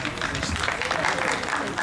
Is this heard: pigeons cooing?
no